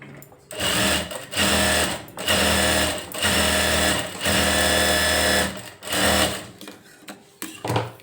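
A sewing machine stitches the edge of a blouse lining in several loud, close runs of steady whirring, each separated by brief pauses.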